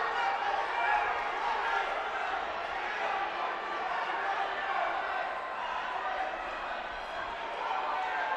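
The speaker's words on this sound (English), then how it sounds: "The crowd noise starting to rise." Steady crowd noise fills a college indoor track and field championship meet during a distance race, a dense broad roar that stays fairly even, with commentary voices over it.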